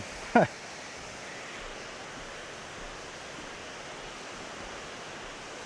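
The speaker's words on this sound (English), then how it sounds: "Got a much better view of the waterfall here." Hilton Creek Falls pours in a steady broadband rush, heard from a viewing platform along the Chattahoochee trail in Georgia, with a brief loud knock or bump near the start before the even roar continues.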